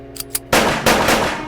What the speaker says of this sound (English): I fired right at you.